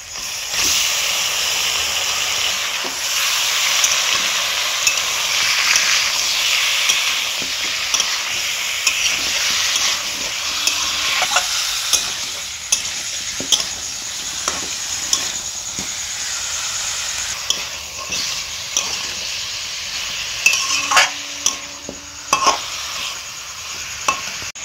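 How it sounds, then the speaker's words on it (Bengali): Chicken pieces for a chicken stew fry over onion, ginger, garlic and green chilli in a pan, a continuous loud sizzle and hiss broken by repeated scraping and clinking as they are stirred, close up, no voices. "এবার আমি চিকেনটা এর মধ্যে দিয়ে দেব।"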